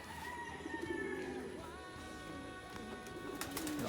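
Young pigeons coo softly inside a loft on a calm, breezy morning, with low throaty coos and a few chirps overlapping at a moderate distance, and no voices.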